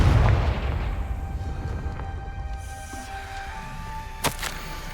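A blasting-spell explosion in the video game Hogwarts Legacy, a loud low boom at the start that rumbles and fades, followed by faint sparkling tones and a brief pop near the end.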